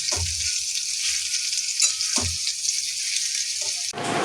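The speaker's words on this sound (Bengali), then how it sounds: "তো আলু ভাজা বসিয়েছি" Sliced potatoes fry in a pan with a loud, steady sizzle, interrupted by a few brief low knocks of stirring before the hiss changes near the end.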